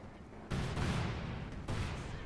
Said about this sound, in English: The artillery called in a cluster bomb specifically in the pack and the MG42.